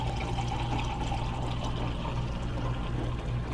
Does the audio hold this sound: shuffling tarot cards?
no